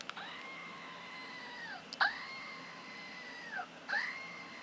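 A screaming goat desk toy lets out three loud, drawn-out bleating screams, each a couple of seconds long with short pauses between, close by in a quiet room.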